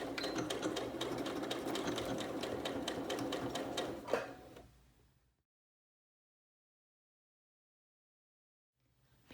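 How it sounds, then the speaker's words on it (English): A sewing machine sews a pocket onto fabric with a fast, steady stitching run for about four seconds. It then slows with a final clunk and falls silent, and the motor starts again at the very end. "Keeping your fabric lined up at 3/8 of an inch, you're going to sew on your pocket."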